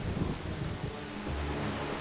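Steady rain pours throughout while sailing the sea in The Legend of Zelda: The Wind Waker, a dense, even hiss with deep low rumbling beneath, continuous and fairly loud with no voices.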